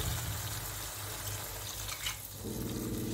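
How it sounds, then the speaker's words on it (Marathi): A glass of water pours and splashes steadily into a pan of frying besan mixture, a continuous gushing that shifts to a fuller, filling sound near the end. "आता आपण ह्यामध्ये 1 ग्लास पाणी टाकून घेऊया"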